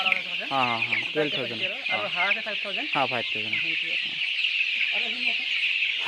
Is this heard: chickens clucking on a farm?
yes